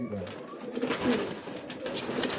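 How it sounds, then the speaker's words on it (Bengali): Steppler pigeons, a lively flying breed kept by a fancier, coo and rustle close by in a short stretch, with a voice talking over them. "স্টিপলার পায়রা দেখতে পাচ্ছেন"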